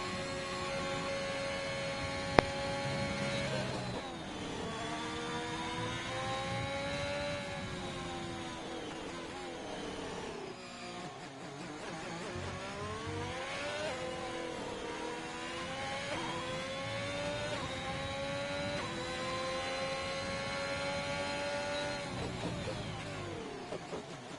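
Onboard a sim racing car lapping a circuit in Portugal, the engine climbs through its revs and drops back with each gear change and corner. The whine is steady and fairly quiet, repeating over the lap.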